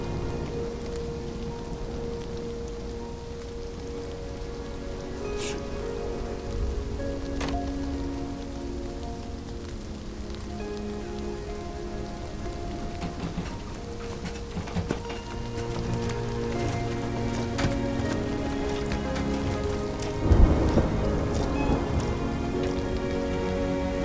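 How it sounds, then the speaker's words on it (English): Heavy night rain pours onto city streets, a dense steady hiss of drops on hard surfaces with faint low rumbles and occasional sharper splashes, continuous and close with no voices. "the heavy night rain begins to pour on the city streets"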